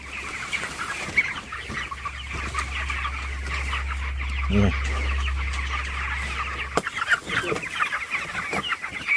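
Chickens cluck steadily inside a poultry farm shed, a dense flock chattering close by over a low continuous hum that cuts off near the end.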